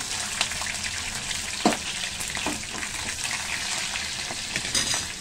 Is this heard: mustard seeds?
yes